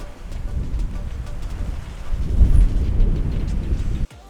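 Strong wind at Point Peron at sunset roars steadily into the microphone as a low, rumbling buffeting that swells midway, then cuts off abruptly near the end.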